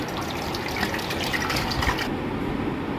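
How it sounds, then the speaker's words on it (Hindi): Water pours steadily into a cooking pot for about two seconds, a continuous splashing rush that then cuts off, leaving a quieter gurgle. "पानी डाल देंगे।"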